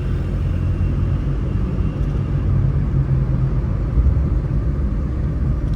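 A deep, steady engine rumble with road noise fills the space continuously, like riding inside a moving automatic Suzuki Alto VXR car, with no talking.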